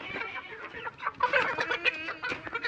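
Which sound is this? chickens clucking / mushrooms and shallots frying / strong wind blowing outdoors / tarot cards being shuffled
chickens clucking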